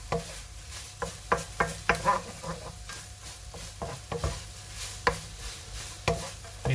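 Bean sprouts fry in a hot pan for Pad Thai, a soft steady sizzle broken by repeated light scraping and stirring taps from a utensil.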